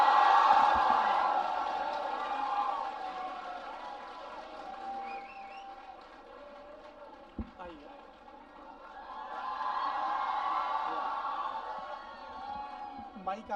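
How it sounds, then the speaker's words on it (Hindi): A crowd at a stage event claps and cheers to welcome guest Vikas Divyakirti, the applause swelling loud at the start, easing off, then rising again toward the end. "जोरदार तालियों से स्वागत करिए विकास दिव्यकीर्ति सर का"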